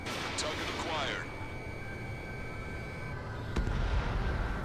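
A missile strikes its target in the Ace Combat 7 jet combat game, giving a sharp, loud blast that breaks through a steady hum of engines and game effects; a faint voice is heard before the hit.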